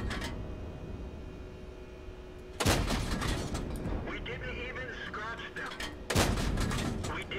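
Two heavy tank cannon shots boom in World of Tanks on the Kursk map, each a sudden loud blast with a rumbling tail, set a few seconds apart over steady in-game engine and ambient noise.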